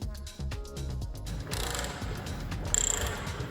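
A long-handled wrench is pulled hard on a bolt of an R44 helicopter being rebuilt after a crash, giving close metallic ratcheting clicks and creaks that come in quick bursts in a quiet workshop.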